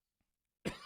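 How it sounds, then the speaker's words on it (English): A single short, sharp cough bursts out after near silence, close and loud, right at the end. "Start to cough at the end of the show."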